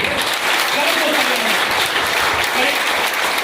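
Steady applause from an audience at a motivational speech, a continuous wash of clapping at moderate loudness throughout, with faint voices mixed in.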